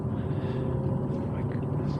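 Jaguar F-Type SVR engine on a race track, a steady low rumble and drone under the cabin noise.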